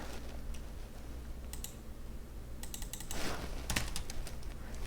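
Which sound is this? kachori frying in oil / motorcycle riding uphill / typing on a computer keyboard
typing on a computer keyboard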